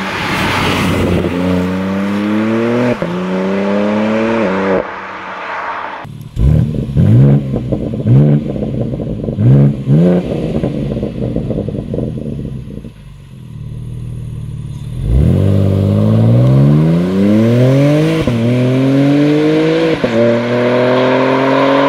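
BMW M3 Touring G8X fitted with an ECE exhaust system accelerating hard on a race track, loud and close, climbing through the gears in rising sweeps with sharp shift breaks and a brief easing off midway.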